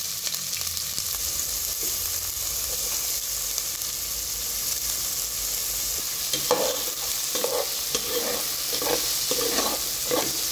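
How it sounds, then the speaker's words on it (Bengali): Whole spices and chopped onions sizzle steadily in hot oil for a paneer tawa masala, with a constant bright hiss and a few scraping stirs toward the end. "উপর থেকে চপ করা অনিয়নগুলো ঢেলে দেবো।"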